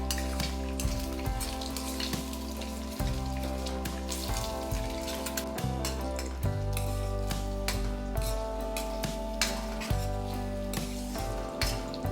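Three eggs frying in hot oil in a kadai give off a continuous crackling sizzle with scattered pops, heard close over steady background music.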